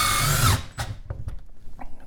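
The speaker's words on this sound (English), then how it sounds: "I'm going to drill through" A power drill whines loudly for about half a second as it drills through during a Ford Mobile EV charger installation, then stops, followed by a few light knocks and clicks.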